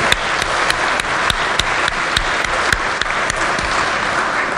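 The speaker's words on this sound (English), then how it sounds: "Please give them a round of applause." Applause fills the West Virginia Legislature chamber, a loud, sustained patter of many hands with a few sharp, distinct claps standing out close to the microphone.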